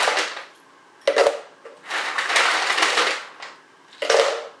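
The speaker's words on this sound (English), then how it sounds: "I usually put about 3 handfuls of ice." Handfuls of ice dropped into a blender for a chocolate Shakeology shake, three separate bursts of crunching, rattling clatter in fairly close succession, each loud and brief with quieter gaps between.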